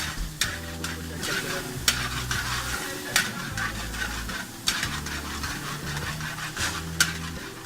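Chopped onions frying in butter in a pan, a steady sizzle broken by scraping stirs and occasional clinks of a spatula against metal, close and moderately quiet.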